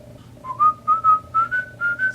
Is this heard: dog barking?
no